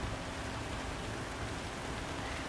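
Steady rain hisses on the track at Le Mans in Gran Turismo 7, a constant broadband wash without breaks, moderately faint and with no talking.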